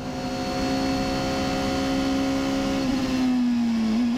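A race car at around 330 km/h approaching the Mulsanne corner on the 24 Hours circuit, a steady high engine whine from on board that drops in pitch near the end as it slows, no talk.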